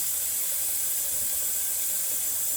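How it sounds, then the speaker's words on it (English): Water runs steadily from a kitchen tap as hands are rinsed beneath it, a continuous close hiss and splash that holds even and unbroken throughout. "Let me rinse my hands off"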